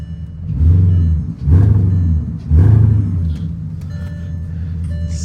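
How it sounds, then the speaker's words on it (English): A 16-year-old Porsche Cayenne's exhaust bursting through three firm engine revs in quick succession, each a deep roar that falls back to a steady idle rumble. "What about some exhaust sounds?"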